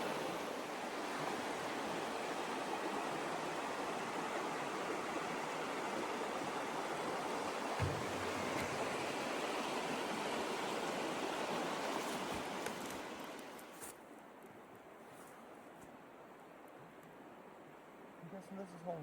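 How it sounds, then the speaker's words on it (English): A river flows through dense woods in the Porcupine Mountains of Michigan's Upper Peninsula. Its rushing water makes a loud, continuous broadband wash that drops sharply to a quieter murmur near the end. "Beautiful river."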